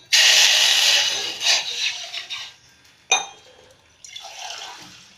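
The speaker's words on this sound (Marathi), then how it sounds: "आता आपण याच्यामध्ये एक ग्लास पाणी ओतणार आहोत" Water pours from a glass into a cooking pot on a gas stove while a leafy vegetable dish is prepared, a loud splashing rush that tapers off into drips and a few small clinks.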